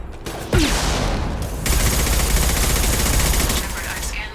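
Sustained gunfire rattles in the video game Mass Effect 2, a dense, loud fusillade of rapid shots that runs almost continuously for several seconds before easing off.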